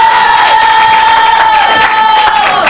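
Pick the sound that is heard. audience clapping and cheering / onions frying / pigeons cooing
audience clapping and cheering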